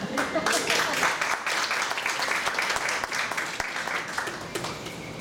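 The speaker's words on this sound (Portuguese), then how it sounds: "Margarete, você merece aplausos" Sustained applause from a seated audience at an academic gathering, dense steady clapping filling the whole stretch with a few voices mixed in underneath.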